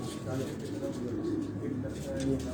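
Racing pigeon at a loft, giving soft, low throaty coos that sit beneath someone talking nearby.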